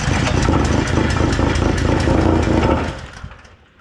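The small engine of a cheap auction Wacker plate compactor runs loud and close with a rapid, even chugging, then quickly dies away toward the end.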